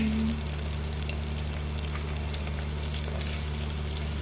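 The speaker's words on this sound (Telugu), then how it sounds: "ఇప్పుడు ఆనియన్స్ వేసుకుంటున్నాను" Onions frying in a hot pan with green chillies that were already cooking, a steady close sizzle that runs the whole time with light stirring scrapes and no voices.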